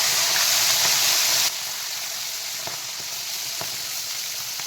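Whole koi fish frying in hot oil give a loud, steady sizzle that drops a little after the first moments and keeps crackling evenly, close up and with no one talking.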